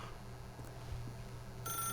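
Telephone ringing in the video game The Stanley Parable, a low steady hum at first, then a bright electronic ring cutting in near the end, heard alone without talk.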